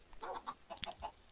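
Chickens in a Minecraft coop clucking in a quick run of soft, short calls, quiet and close with tiny gaps between them.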